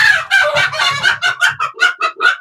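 A rooster crows close by while a hen clucks in a quick series of loud, sharp bursts, with a faint low grunting underneath.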